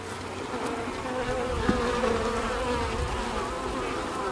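A dense, steady hum of many honey bees buzzing close by in an open beehive, continuous and fairly quiet throughout.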